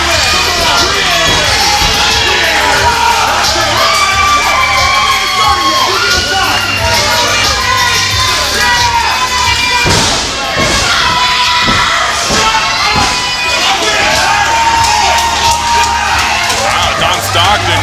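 A wrestling crowd at an indoor pro wrestling show roars, shouts and cheers continuously, loud and close, with heavy thuds and slams from the ring punctuating the noise midway.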